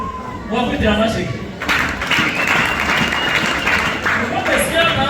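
A church congregation at a Shammah revival morning service applauding, with sustained clapping that swells after a brief lull and carries on beneath voices and crowd noise.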